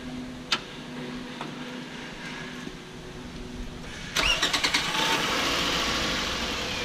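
A 2007 Toyota Camry engine cranks and catches after a quiet stretch, a few rapid starter pulses followed by a steady close idle.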